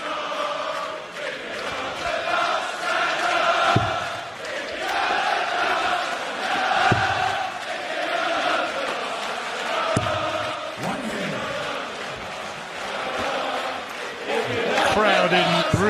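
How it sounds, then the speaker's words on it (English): A celebrating arena crowd at a darts Masters semi-final keeps up a steady, boisterous roar of cheering and chanting, with occasional sharp peaks, filling the hall throughout. "Crowd in really celebratory mood tonight."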